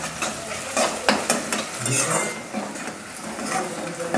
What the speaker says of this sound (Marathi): आता हे तेलामध्ये टाकणार आहे कांदा आणि मस्त गुलाबी रंगावर हे कांदा तळून घेणार आहे